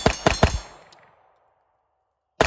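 Smith & Wesson M&P22 pistol firing Remington Golden Bullets .22 ammunition: three quick sharp shots in a rapid string, a brief fading ring, then a fourth shot after a pause, loud and close with no talking.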